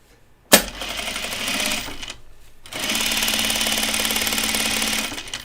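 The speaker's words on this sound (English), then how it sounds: "let's do a little sample sew on there, partner" A sewing machine running a short sample seam on overalls fabric, a sharp start followed by a steady, fast mechanical whirring, a brief pause, then a second longer burst of stitching.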